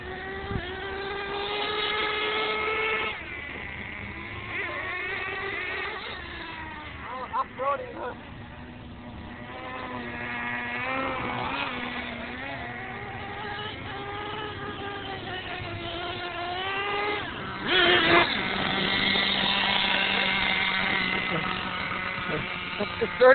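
A small RC monster truck's electric motor whines and surges in pitch as the throttle changes, heard close for a long stretch under ongoing talk.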